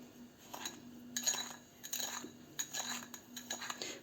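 A spoon clinks and scrapes against a bowl while stirring cinnamon into sugar, in short irregular strokes, close and fairly quiet.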